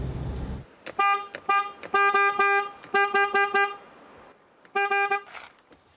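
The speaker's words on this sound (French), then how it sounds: "quand tu arriveras sur place, il faut klaxonner joyeusement" Car horn honking on arrival at a remote hamlet in the Gorges du Tarn, loud close blasts in a cheerful rhythmic pattern of short and grouped toots, alone after a brief low rumble at the start.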